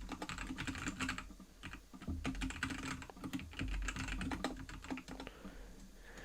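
Steady, rapid typing on a computer keyboard while composing an email, dense clusters of close key clicks continuing throughout with no talking.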